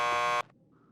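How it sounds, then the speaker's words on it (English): A door buzzer in the video game Max Payne 2 sounds one loud, harsh electric buzz lasting under half a second, then cuts off abruptly into near silence. "Just press the buzzer by the door."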